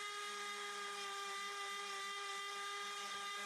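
A Dremel rotary tool with a ball bit power-carves deep eye sockets into cottonwood, giving a continuous, close, high-pitched whine that stays steady throughout.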